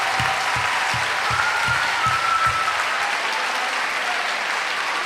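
An audience at the Aalsmeer Flower Cup finals claps warmly, dense steady applause that fades slightly toward the end, with some louder claps standing out near the front.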